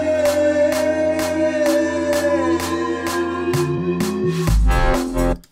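A riser sweeps upward through a dance track build-up, layered over regular clap hits, sustained synth tones and rising bass steps, swelling louder toward the end before cutting off sharply.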